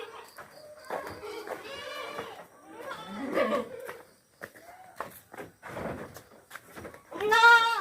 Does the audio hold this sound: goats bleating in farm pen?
yes